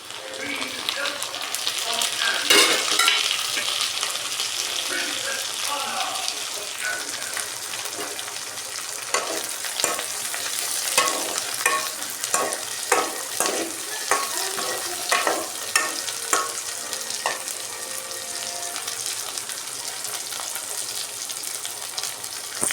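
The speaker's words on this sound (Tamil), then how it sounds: "இப்போ நம்ம தக்காளி சேர்த்துக்கலாம்." Tomatoes stirred and fried in a pan for a white garlic kuzhambu, with a steady sizzle broken by scraping and stirring clatters at close range; no one speaks.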